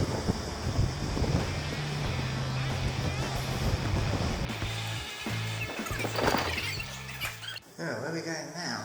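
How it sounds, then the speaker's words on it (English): Steady wind rushes and buffets the microphone at a high spot on an e-bike ride near Hurst Castle, with a person talking over it and some shifting outdoor noise. "windy up here."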